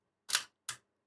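The shutter of a 1970s Miranda Auto Sensor EE film camera fires: two crisp, close mechanical clicks about a third of a second apart, the first slightly longer, in otherwise silent surroundings.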